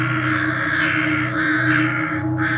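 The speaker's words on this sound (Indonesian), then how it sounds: "Burung gagak bersahutan dari dahan pohon mati." Crows caw from the branches of dead trees at dusk, loud and close, with several harsh, drawn-out calls overlapping and answering each other.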